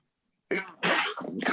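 A person sneezes from pollen, giving a short burst followed by two louder explosive sneezes in quick succession, close and alone.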